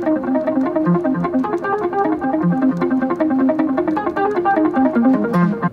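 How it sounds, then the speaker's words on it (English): Electric guitar sequence played with a delay effect on, the repeating echoes smearing the notes into a continuous cascading pattern that stays full and steady, close up with no voices. "Put delay on."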